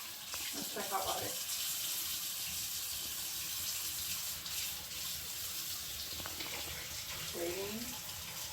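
Hot water runs steadily from a kitchen tap in a house under renovation, a constant broad hiss of flowing water throughout, with brief voices talking faintly underneath.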